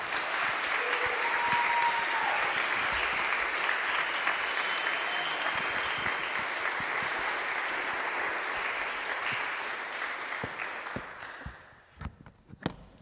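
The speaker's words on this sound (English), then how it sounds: "please join me in welcoming with a warm round of applause, Dr. Margaret McGillivray." Warm audience applause fills a recital hall for a speaker, sustained dense clapping that holds steady for about ten seconds before thinning into a few scattered claps and fading out.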